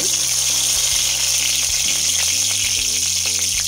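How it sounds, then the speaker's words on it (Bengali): Curry leaves and dried red chillies sizzle steadily in hot tempering oil, a loud, dense frying hiss throughout with a low hum beneath. "আজকে ভাবলাম কারি পাতা আর শুকনো লঙ্কা ফোড়ন দেবো"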